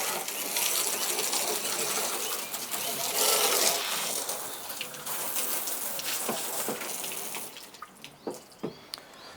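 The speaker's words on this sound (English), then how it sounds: "With your garden hose, give it a bit of a squirt down." Garden hose spraying water over a cedar wood-fired hot tub, a steady broadband hiss of spray splashing on wood for most of the clip, thinning out near the end into a few separate splashes and drips.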